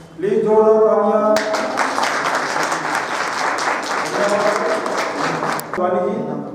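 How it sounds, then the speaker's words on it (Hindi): A school management committee honouring ceremony fills with loud, dense audience clapping after a speaker's brief lead-in, holding steady for several seconds before a voice resumes over the fading applause. "तालियां"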